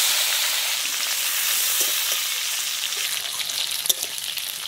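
Sliced potatoes with crushed garlic frying in hot oil, a steady close sizzle with faint stirring scrapes near the end and no voices.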